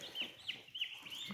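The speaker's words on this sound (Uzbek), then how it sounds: "mana shu parranda" Domestic chickens kept at a home cluck in short repeated calls, several close together, moderately loud with no talk over them.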